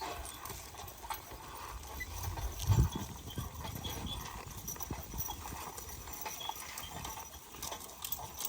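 Mules pulling a plow at a plow day clop along steadily, hooves thudding in an even walking rhythm at moderate distance, set against a constant outdoor hiss with faint voices in the background.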